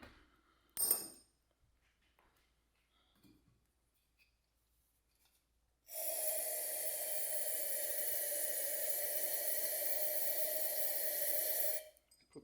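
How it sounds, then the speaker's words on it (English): Carb cleaner sprayed onto a part from a 1991 Johnson 40hp outboard: a sustained, fairly close hiss lasting about six seconds, after a few faint handling clicks and a short earlier burst. "Put that in there with a little bit of carb cleaner."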